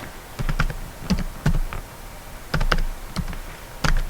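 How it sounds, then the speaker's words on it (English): Typing on a computer keyboard: close, fairly loud bursts of rapid key clicks in several short runs separated by brief pauses, with no talking. "I'll type"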